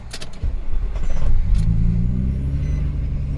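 A 2007 Nissan Murano with a 3.5L engine cranks and catches roughly, a few clicks giving way to a rumbling, uneven idle that settles into a steady low drone, close and without talk.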